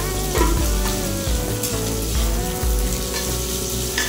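Mustard seeds crackling and sizzling in hot oil in a pan, a dense close frying hiss dotted with small pops and stirring sounds, no talking.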